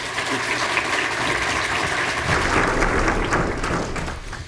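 An audience applauds Representative Darrell Issa as he takes the stage, a dense, loud wash of clapping that holds steady for several seconds without voices.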